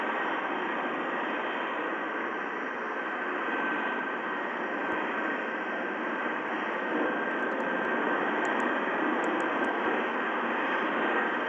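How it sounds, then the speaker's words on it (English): Steady, broadband roar of a Flight 787 airliner's engines as it lands, a constant loud whoosh with no pauses. "Requesting permission to land. Flight 787. Captain, runway is ready. You can land."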